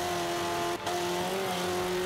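A racing game car in Forza 5 keeps up a steady, droning engine hum at a fairly constant pitch, quiet and continuous, with one brief dip in the middle.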